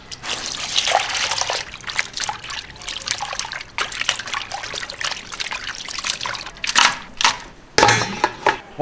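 Water trickles and splashes unevenly from a kitchen tap as food ingredients are rinsed a second time, in irregular bursts and dribbles, close and clear, with no talking.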